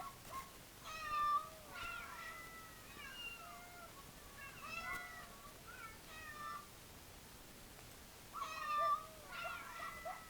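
Repeated app-generated meowing cries, several in a row with short gaps, fairly faint over a soft hiss; one brief dog yelp mixed in.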